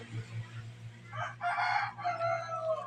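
Chickens cluck and a rooster gives a short crowing call nearby, a few bursts over a low steady hum, fairly faint overall.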